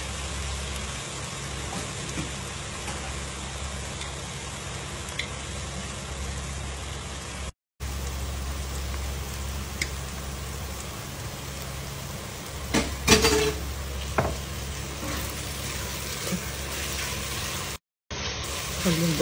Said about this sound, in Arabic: خلي البصل شوية ياخد لون عشان يعطيني طعم حلو